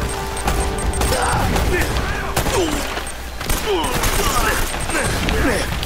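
Rapid gunfire and booming explosions from a firefight in the PS4 game Uncharted: Drake's Fortune, a dense, continuous barrage of cracks and blasts with someone talking over the battle.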